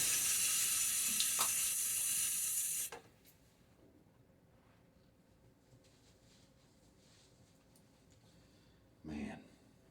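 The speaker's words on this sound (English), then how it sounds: "throw a little water on my face" A sink tap runs in a loud steady hiss for about three seconds, then cuts off, leaving near silence before a brief splash of water near the end as water is thrown on a face before shaving.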